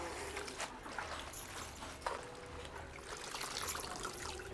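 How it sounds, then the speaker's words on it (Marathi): Water sloshes and trickles steadily as punarnava leafy greens, muddy from rain, are swished and rinsed, with occasional splashes, fairly close and moderately quiet. "चांगली दोन पाण्याने धुवून घ्यायची आहे"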